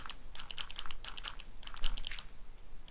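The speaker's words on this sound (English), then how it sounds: "You can probably hear my buttons clicking" Keyboard keys and mouse buttons click in quick, uneven bursts of light taps while playing Minecraft, close and fairly quiet, with no voices.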